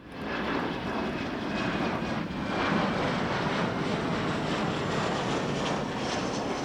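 A military jet with its weapons bay open flies past at the Royal International Air Tattoo air show, a loud, sustained roar that swells and holds across the clip, heard without speech.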